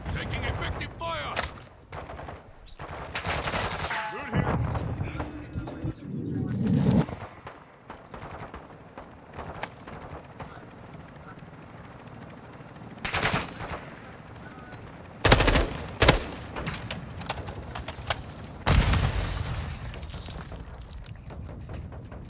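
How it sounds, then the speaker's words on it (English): Gunfire in a Call of Duty video game, with rapid automatic bursts and single shots cracking loudly in clusters, separated by quieter stretches of ambient game noise. "Taking effective fire."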